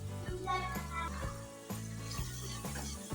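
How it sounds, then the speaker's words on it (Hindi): Masala sizzles in hot oil in a pan while guar bean curry is being cooked, a steady close frying hiss running under louder background music. "ऑयल सेपरेट होने तक हम इसे पकाएंगे, अच्छी तरह हमारा मसाला भून जाए।"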